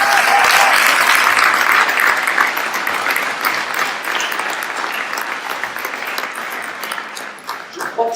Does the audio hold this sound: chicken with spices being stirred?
no